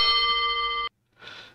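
A signal box bell in a PC-Rail heritage signalling simulation of Seaton Junction rings with a sustained metallic tone, stops abruptly, and after a short silence gives a second, softer and shorter strike, close and clear with no talking.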